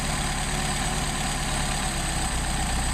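A car engine fitted with Solex carburetors idles steadily at a raised speed near 1,300 rpm, a continuous close, even hum with no voices over it.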